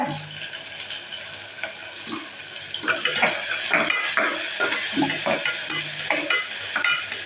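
Chopped onion and tomato sautéing in a pan for a cauliflower and peanut gravy, with a steady sizzle under repeated clinking scrapes of a spoon stirring, up close and without talk.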